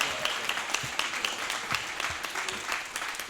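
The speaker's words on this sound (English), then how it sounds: "let's hold the clapping, please" Council meeting audience applauding after a public comment, a steady crowd of hand claps with sharp individual slaps, moderately loud and filling the room without talk.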